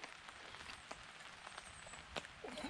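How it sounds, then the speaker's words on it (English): Light rain drips from treetops onto a camping tarp in the woods, a soft steady patter with scattered sharper drops landing close by, no talking. "the rain isn't so bad under here, but I can hear it up in the treetops"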